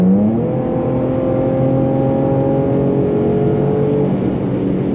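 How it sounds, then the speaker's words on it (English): Infiniti G37 with a loud aftermarket exhaust revving and pulling hard at night, a steady, strong engine drone with rising harmonics held close and loud throughout, no talking. "that exhaust, man, that exhaust is literally everything"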